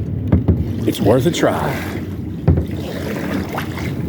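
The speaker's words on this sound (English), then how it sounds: "I'm out kayaking around trying to find stuff." A kayak paddles on open water near Key West after Hurricane Ian, with soft splashes and wind buffeting the microphone while someone talks over the paddling.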